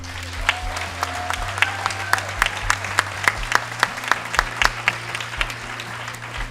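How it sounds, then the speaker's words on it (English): Audience applause at an awards ceremony for a medical conference, a steady patter of many hands clapping with sharper individual claps standing out, loud and continuous throughout. "Can you clap for them?"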